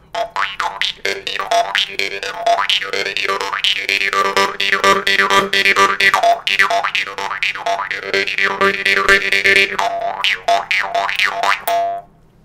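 A twanging jaw harp plays a steady, rapid rhythm, its vowel-like overtones sweeping up and down as the player changes tongue shape, loud and close, then stopping abruptly.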